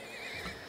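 Horse neighing in the video game Turmoil, a brief wavering whinny that is fairly quiet and heard alone, without talk.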